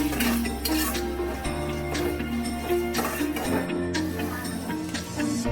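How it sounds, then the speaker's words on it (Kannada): Onions stir-frying on high flame in a pan for aloo kurma, with continuous busy sizzle and scraping, utensil clinks and stirring, steady and close throughout with a tonal hum underneath. "ತುಂಬ ಹೈ ಫ್ಲೇಮಲ್ಲೇ ಇಟ್ಕೊಂಡು ಫ್ರೈ ಮಾಡ್ಕೊಳ್ಳೋಣ"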